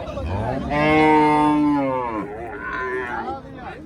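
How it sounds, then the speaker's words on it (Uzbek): A cow lets out a long, loud moo close by, tapering into a lower second call, with faint murmuring in the background, at the Qarshi livestock market. "Mana bu yoqda ham sigirlar bor ekan."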